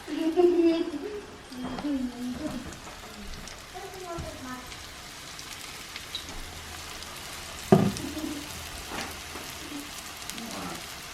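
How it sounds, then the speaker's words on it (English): Steady crackling sizzle of chile rellenos frying in a pan, with a few faint voices and clinks over it. "it's like frying everything"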